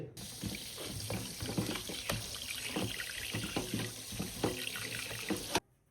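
Raw beef is washed under a running tap in a sink for a home-cooked beef curry, giving a steady, close rush of flowing water with splashes and handling clatter that cuts off abruptly at the end.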